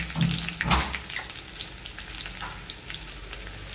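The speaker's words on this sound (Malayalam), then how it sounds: "നമുക്കിതിനകത്തോട്ട് ഉള്ളി ഇട്ട് കൊടുക്കാം." Chopped onion sizzling in hot oil with mustard seeds in a pan, a bright continuous frying hiss with a couple of louder bursts at the start as the onion goes in, then settling to a steady close crackle.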